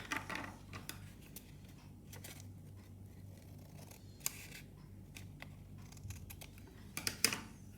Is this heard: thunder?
no